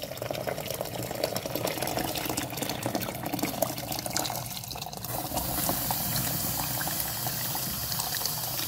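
Water heats in a pot for Moroccan harira, a continuous bubbling, hissing simmer close by with a brief dip midway before the boil resumes steadily.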